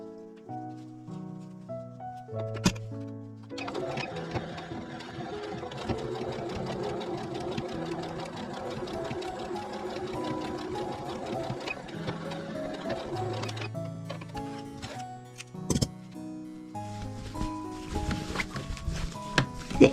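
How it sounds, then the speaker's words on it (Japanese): Sewing machine stitching a patchwork fabric pouch: a rapid, even mechanical clatter of stitching runs in bursts, with short pauses, knocks and clicks between runs, close and moderately loud. "で中布も同じように ここを縫っていきます"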